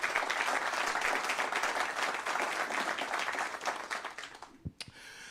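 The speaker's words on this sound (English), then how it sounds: "Let's welcome them with a round of applause." Audience applause at a banking forum panel discussion, as a room claps steadily and loudly for several seconds before it quickly dies away, followed by a couple of small knocks.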